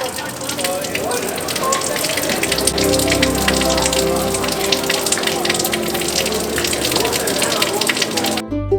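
A public fountain in Dubrovnik runs with a loud, constant rush and gush of water, close by and unbroken throughout.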